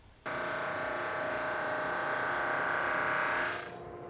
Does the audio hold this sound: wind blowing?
no